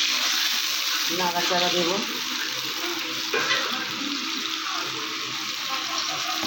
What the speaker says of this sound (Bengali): মশলা ধোয়া জলটা দিয়ে দিলাম